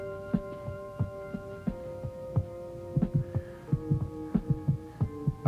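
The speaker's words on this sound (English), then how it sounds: "I can hear his heartbeats." A man's heartbeat picked up by a ground microphone thumps in a steady, repeated lub-dub rhythm, low and muffled, over a constant electronic hum with tonal whine lines.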